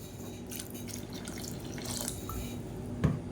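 Water from a rinsed mixer jar poured into a pot of mango kara kuzhambu, a soft, steady splashing and trickling close by, ending with a faint drip or knock, with no voices.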